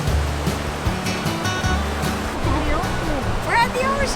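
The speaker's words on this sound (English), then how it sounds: "We're at the ocean." Ocean surf rolls and washes continuously onto a warm beach in Mexico, a steady broad wash that swells slightly, with voices talking over it and a dog's whine late on.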